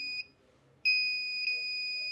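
Steady electronic beeps from a multimeter in continuity mode while probing the display circuit of an Oppo A7 phone under repair: a short tone, a pause, then a long sustained beep, close and clear with no talk.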